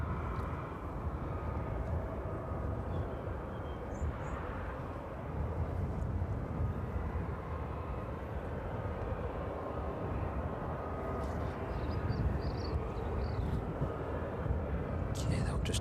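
An airliner touches down at East Midlands Airport on an evening runway, its engines giving a steady, distant roar that swells slightly near the end, with faint talk at times.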